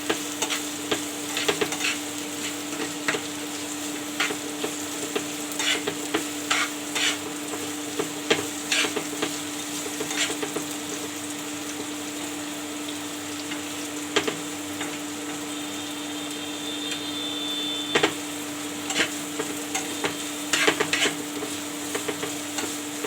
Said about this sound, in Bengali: এখন মরিচ পেঁয়াজগুলোকে কিছুক্ষণ নেড়ে চিড়ে ভাজি করব।